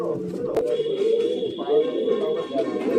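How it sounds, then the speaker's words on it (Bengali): Pigeons cooing at a home loft, low throaty coos rolling continuously and close by, with a faint thin tone and a sharp click early on. "এই যে একটা কালো দানা চোখের পায়রা"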